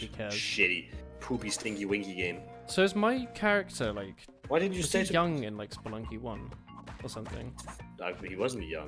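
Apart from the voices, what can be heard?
No everyday noise stands out behind the speech.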